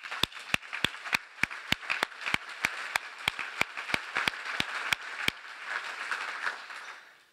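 A large audience applauds at a United Way 75th anniversary award ceremony. Loud, steady, rhythmic clapping with sharp, evenly spaced beats runs for several seconds over a broad wash of crowd applause, then thins out and fades.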